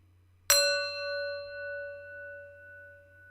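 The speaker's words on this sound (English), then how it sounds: "First, we have to wake up the bell." A mindfulness bell is struck once and rings out clearly, its pure tone slowly fading with a gentle pulsing shimmer in a quiet room.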